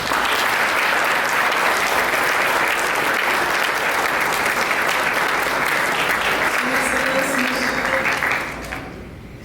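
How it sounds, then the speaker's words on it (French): Audience at an International Volunteer Day ceremony applauding, a dense sustained clapping that holds steady and then fades out toward the end. "applaudissez pour moi"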